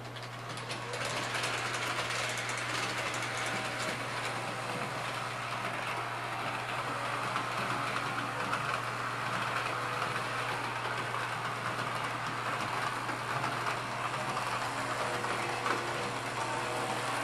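A steady mechanical whir and rattle runs continuously, with a constant low hum underneath, from an S-gauge model train driving along a track nearby.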